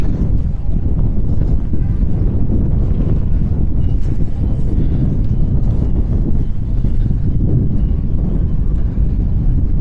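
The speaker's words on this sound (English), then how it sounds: "It's quite breezy. It's not cold, but it's quite a breeze." Steady, loud wind buffets a microphone on a breezy London high street in Hounslow, a constant low roar with no pauses and no voice.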